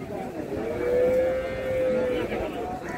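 A cow at a cattle market in Nekanur, Beed gives a long, steady moo lasting over a second, loud and close, with crowd murmur and market bustle around it.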